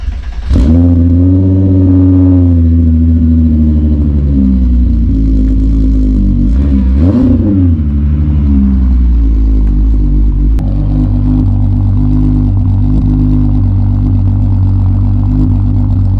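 An MK3 Jetta with a VR6 engine rumbles loud and close as it is eased back into a garage in the rain, holding a steady idle-like drone with one brief rev partway through and no talking.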